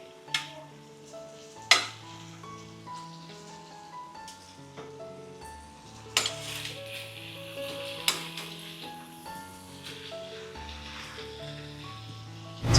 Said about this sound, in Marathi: एकदम परफेक्ट फ्राय हाफ फ्राय झालेली आहे हाफ फ्राय झालेले आहेत तर आता पलटी करतात